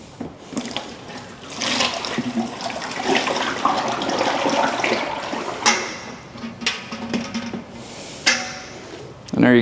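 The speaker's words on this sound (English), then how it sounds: "all I'm going to do is try to pour this in here without making a mess." Polyurethane finish pours from a bucket onto a floor, a steady sloshing liquid stream at close range with occasional knocks and clatters near the end.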